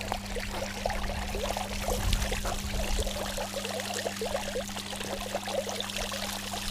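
Water pours steadily from a humming pump into a container, a continuous splashing trickle over a steady electrical hum, close and moderately loud.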